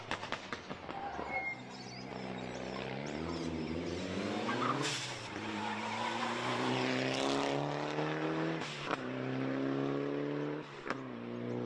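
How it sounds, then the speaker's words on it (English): A rally course car engine approaches and roars past on a rally stage, its pitch climbing then falling as it passes, with a few sharp pops and a steady revving drone afterward. "Even the course car sounds good."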